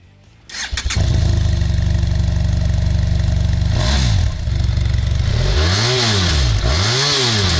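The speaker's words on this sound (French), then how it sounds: "le bicylindre parallèle de 798 cm3 est identique à celui de la F800 GS" A BMW F700 GS 2016 798 cc parallel-twin motorcycle engine fires up and settles into a steady idle, then is revved twice in smooth rising-and-falling sweeps, loud and close.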